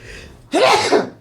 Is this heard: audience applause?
no